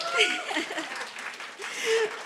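Scattered clapping from a small audience at a TV series Q&A, fairly steady across the whole stretch, with a few voices and faint laughter mixed underneath.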